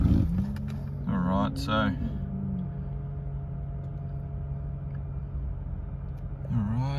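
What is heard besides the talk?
2017 Lexus IS200t push-button engine start and idle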